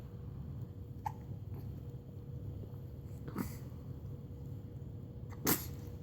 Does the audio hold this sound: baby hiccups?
yes